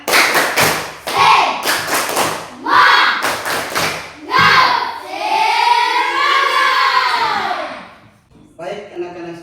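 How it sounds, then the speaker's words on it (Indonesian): A classroom of children performs a rhythmic tepuk semangat cheer, with loud unison claps in patterned bursts mixed with chanting voices, followed by a long sung or chanted vocal line. "Tepuk semangat."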